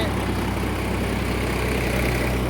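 A New Holland 3230 tractor engine runs steadily with its live PTO engaged, giving a loud, continuous low rumble with no break across the whole stretch.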